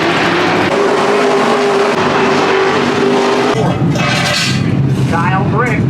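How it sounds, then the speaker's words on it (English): A race car runs loud and steady on a track, its engine droning continuously and shifting pitch as it accelerates, with a crowd or talk mixed underneath. "Your daddy is driving your mama's race car."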